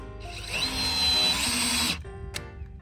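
A power drill drives a screw into the mount of a semi-flush ceiling light fixture. It makes one close, loud whirring burst of about a second and a half, then a short click before quiet.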